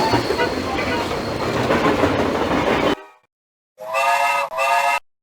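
A locomotive in the Tootle video game rolls along with a loud, steady mechanical rumble that cuts off abruptly. After a silence, two short, harmonic whistle blasts sound.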